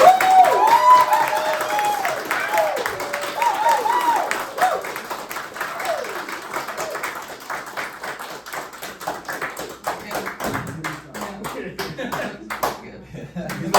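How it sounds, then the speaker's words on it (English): Audience applause given as a vote, with whistles and crowd noise in the opening seconds, then sustained clapping that grows denser and louder toward the end. "please give a big round of applause"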